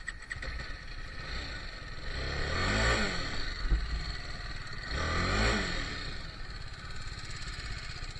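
A heavy motorcycle stuck in the sand at Morjim Beach, Goa, its engine revving in two drawn-out swells over a constant idle, fairly close.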